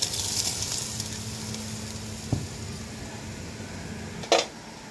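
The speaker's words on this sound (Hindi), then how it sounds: "लसन अदरक तो टमाटर हरिया मिर्चा भून लगी हैं" Garlic, ginger, tomatoes and green chillies fry in a pan with a steady, soft sizzle, broken by a couple of sharp utensil knocks.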